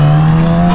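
A Yamaha R6 600cc sport motorcycle with stock exhaust idles after a cold start with a loud, steady, buzzing hum, close to the microphone and with no voices.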